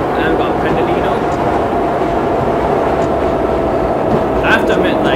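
A Pendolino train in Train Simulator 2019 rumbles past in a loud, steady roar of rolling wheels and engine drone that stays constant throughout, with a faint voice briefly audible under the noise.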